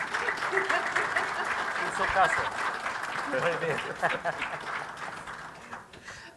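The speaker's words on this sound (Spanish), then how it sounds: "Gracias, sí, por favor, un aplauso" Audience applause at a panel discussion on reviving hydrocarbon development, dense clapping running steadily through the clip with a voice speaking over it.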